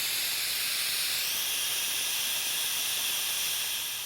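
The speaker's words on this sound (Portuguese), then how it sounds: "tira a pressão, abre a panela" A pressure cooker vents its pressure in a steady, loud, high-pitched hiss of steam that holds constant for several seconds and fades slightly at the end, with no voices.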